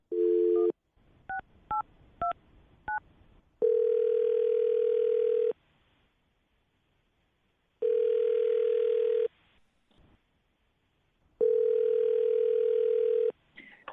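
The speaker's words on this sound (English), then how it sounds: "I will dial her phone number right now." A telephone call placed for a radio show starts with a short dial tone, then a quick run of several touch-tone dialing beeps, followed by three long, steady ringback tones separated by silent gaps.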